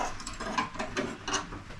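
Quiet mechanical clicks and metallic rubbing as the instrument panel is worked loose from a 1942 Harley-Davidson WLA motorcycle, four or five short scraping, ratchet-like bursts close to the microphone with no talking.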